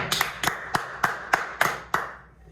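A church congregation closes a broadcast with seven loud, evenly spaced claps in unison, each sharp and ringing slightly in the room, before the sound fades away.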